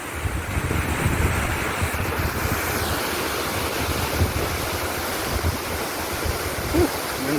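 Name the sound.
wind and waves on the Lake Michigan shore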